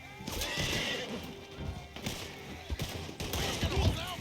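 Horse sounds from the Red Dead video game, with a whinny and hoof clatter over busy game noise with bursts and crashes, fairly loud throughout.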